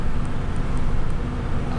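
A 2021 Ford F450 truck drives steadily in fifth gear, its engine and road noise a continuous loud rumble with no break.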